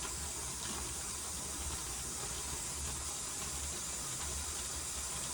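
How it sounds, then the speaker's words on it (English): Hot steam vents steadily from a pressure canner while frozen vegetables are canned, a continuous broad hiss that stays even and close throughout, with no talk. "now we're starting to get a good vent of steam coming out, which is very, very hot"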